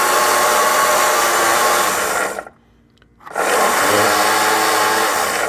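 Three original electric motors of a wooden ITO King RC cabin cruiser whir loudly and steadily, cut out for about a second, then start again at the same even drone.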